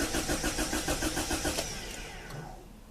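A car engine with a ball stuck in its fuel rail turns over in a steady rhythmic crank of repeated pulses for about a second and a half, then winds down into a low rumble without catching, loud and close, no talk.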